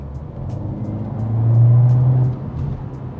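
A Mercedes-AMG A45S 4Matic+ hot hatch driven at around 80 km/h, its engine a steady low drone that swells louder for about a second in the middle before settling back.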